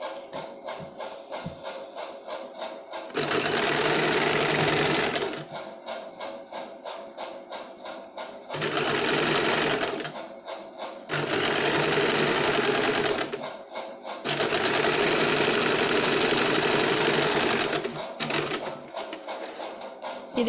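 Sewing machine stitching a blouse's lining and main fabric together in bursts of rapid, steady running, pausing between runs with quieter mechanical ticking; close and loud, with no talk.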